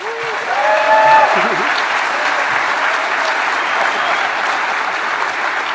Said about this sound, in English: This is their first time, so give them a big round of applause.